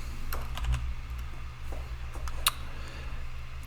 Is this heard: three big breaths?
no